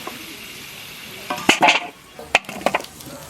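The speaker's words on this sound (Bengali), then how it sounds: "আলু ভাজা হয়ে গেছে, তুলে নিচ্ছি।" Fried potatoes are lifted out of a pan with a utensil, several clattering scrapes and knocks over a light frying sizzle.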